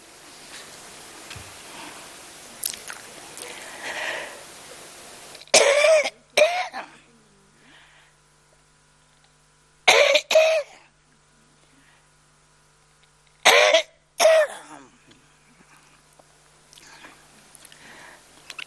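Several sharp coughs in two bursts, each a quick pair of loud hacks, separated by quiet stretches, after some soft rustling at the start.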